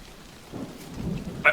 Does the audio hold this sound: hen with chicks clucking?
no